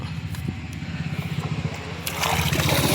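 Water gushes from a pump's delivery pipe through a two-to-one-and-a-half-inch reducer, driven by an old BLDC motor with a new pump, a steady pulsing splash that swells louder near the end.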